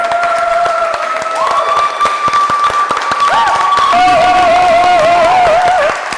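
An audience clapping steadily in a motivational talk on the power of the mind, with a speaker's voice carrying over the applause and a few voices calling out.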